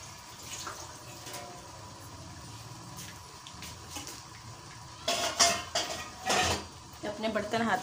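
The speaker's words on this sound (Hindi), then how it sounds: "अपने बर्तन हाथों हाथ वॉश करके रखती हूँ।" Dishes are washed by hand in a home kitchen: steady running-water hiss, then louder clattering bursts of pots and utensils knocking together near the end.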